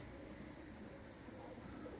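Pigeons coo softly on a rooftop, among young autumn birds already mostly moulted, a low, steady burbling murmur that runs continuously and stays faint and somewhat distant.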